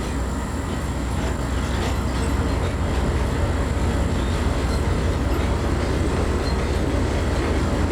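A CSX diesel freight train in the Trainz railroad simulator, a continuous loud engine rumble and rolling rail noise holding steady throughout with no talk.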